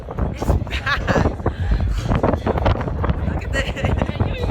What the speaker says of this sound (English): Can you hear us? It's so windy.